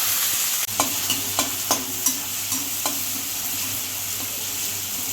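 Mustard seeds, curry leaves and chana dal sauté in hot oil with a constant hiss, broken by a few evenly spaced scraping strokes of a spatula against the pan, near and fairly loud.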